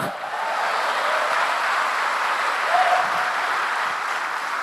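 A church congregation applauding during a service, a dense, steady wash of clapping that holds at an even level throughout without any voices standing out.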